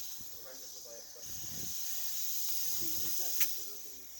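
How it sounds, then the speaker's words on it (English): A steady air hiss from a compressor pumping up the tyres of a barn-find Ford Sierra XR4i left untouched for 30 years. It runs continuously at moderate level, with faint voices and a brief sharp click near the end. "we brought the compressor as first job to try and pump the tyres up so it'll free roll"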